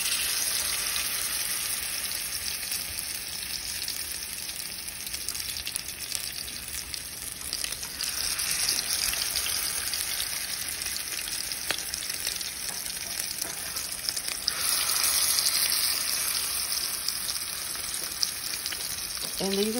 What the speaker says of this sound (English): So we're gonna put them in the grease.